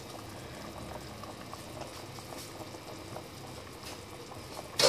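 Lotus root soup simmers in a pot over medium heat, giving off a steady, soft bubbling and gurgling that stays even throughout, with a brief clunk at the very end.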